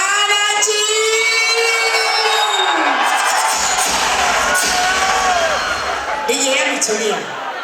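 At a Christmas DJ event, a large crowd cheers and shouts without a break, a loud, dense roar of whoops and screams that fades slightly toward the end.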